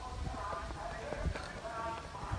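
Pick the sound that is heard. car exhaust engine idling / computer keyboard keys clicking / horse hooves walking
horse hooves walking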